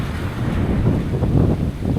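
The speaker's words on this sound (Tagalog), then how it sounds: "Kaso yung hangin, mukhang salubok pa." Gusty wind blows across open water at a fishing spot, rumbling steadily against the microphone with soft, uneven surges.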